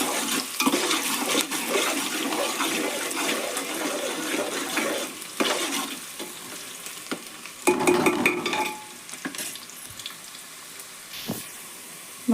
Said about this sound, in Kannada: ಸ್ವಲ್ಪ ಎಣ್ಣೆ ಒಳಗೆ ಫ್ರೈ ಆಗ್ಲಿರೋ